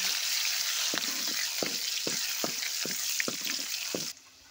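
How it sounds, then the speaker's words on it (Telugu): Onions frying in a pan for drumstick dal curry, a steady bright sizzle with regular scraping strokes of a spoon stirring, about nine stirs in four seconds, close and alone before the sizzle suddenly drops away. "దోరగా వేగేంత వరకు కలుపుకోవాలి."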